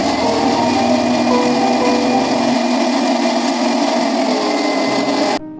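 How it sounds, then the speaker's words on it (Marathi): A mixer grinder whirs loudly and continuously as it blends mango into a fine pulp, its pitch shifting partway through, then cuts off abruptly near the end. "मिक्सरला बारीक त्याचा आमरस बनवून घ्यायचा आहे"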